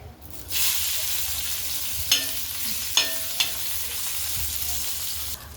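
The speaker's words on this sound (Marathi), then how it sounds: "घालायच्या हिरव्या मिरच्या छान फ्राय करून घ्यायच्यात" Green chillies frying in a pan for a spicy Maharashtrian moong dal amti, a bright hiss that rises after a quiet start and holds steady, with a few sharp scrapes of a spatula.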